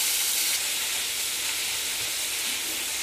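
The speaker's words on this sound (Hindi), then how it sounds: "इसे हम इसे थोड़ा सा फ्राई कर लेते हैं ताकि इसका थोड़ा कलर चेंज हो जाए" Chicken pieces fry in a pan with a loud, even sizzle and hiss that holds steady and close throughout, with no voices over it.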